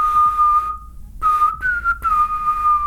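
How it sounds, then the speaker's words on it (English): A person whistles a clear, loud, single-pitched tone, holding it, pausing briefly, then sliding slightly upward in pitch over a few short phrases as a beatbox whistle demonstration. "So the whistle sounds like"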